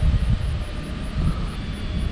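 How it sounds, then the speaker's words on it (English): An FPV wing model airplane cruises overhead, its steady electric motor drone and rushing wind noise loud and continuous, recorded from a camera on the aircraft. "This is cruising with an airplane."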